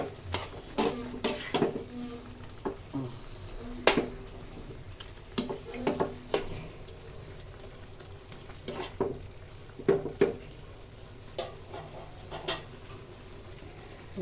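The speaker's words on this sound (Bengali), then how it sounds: "এই যে রান্না চুলায় লাউ শাক বসাইছি" Bottle gourd leaves cook in a pan on the stove, giving a steady close sizzle broken by frequent sharp clinks and scrapes of stirring, with no voices.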